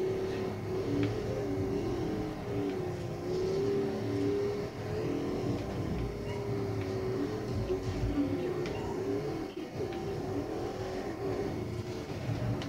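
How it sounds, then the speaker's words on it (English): A car engine in the racing video game Forza Horizon hums and revs in a sustained, wavering drone at moderate volume, with no one talking over it. "I love the way this car sounds"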